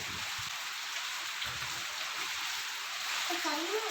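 Heavy rain pours steadily as a dense, constant hiss throughout, with faint bits of background voices underneath.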